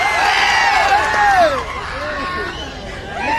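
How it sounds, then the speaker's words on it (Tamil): Simbu fans in a crowd at the Margazhi Makkalisai music event in Chennai cheer and shout, with whoops and wavering cries rising over dense babble, loud and sustained throughout. "அரசன் சிம்பு ரசிகர்கள் கைத்தட்டல் பார்க்கலாம்."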